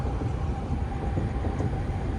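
A Singapore MRT subway train passes in the Clementi area, giving off a steady, continuous low rumble with faint rail hiss that holds an even loudness throughout, with no voices.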